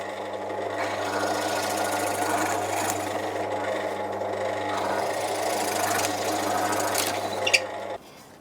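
A drill fitted with a plug cutter bores wooden plugs from overlooked timber for a foot stool, a steady whirring motor drone with cutting chatter that runs continuously before stopping abruptly near the end.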